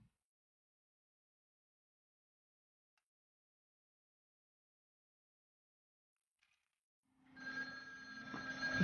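A telephone rings after several seconds of near silence, its steady ringing tone starting abruptly and continuing, fairly loud and close, to the end.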